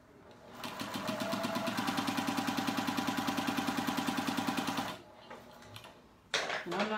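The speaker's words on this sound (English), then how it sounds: "we're going to sew till we get to the end and cut the edge off" Home sewing machine stitching the border onto a baby quilt: a steady, fast mechanical chatter runs for about four seconds, then stops, followed by faint handling clicks and a short louder rustle at the end.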